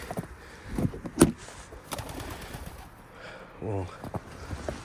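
Pigeons or doves, a newly bought batch, give soft cooing calls near the microphone amid rustling and occasional knocks and bumps, with brief speech-like sounds mixed in.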